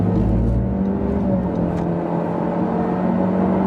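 A turbocharged Honda Civic sedan accelerates hard from a standstill on a quarter-mile run, a loud steady engine roar and whir rising continuously with no pauses.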